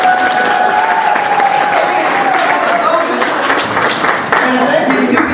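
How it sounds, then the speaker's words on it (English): Audience applause at a children's church program, a dense, steady wash of clapping and crowd noise sustained for several seconds with a voice and tonal sound running underneath. "Let's give them a big round of applause"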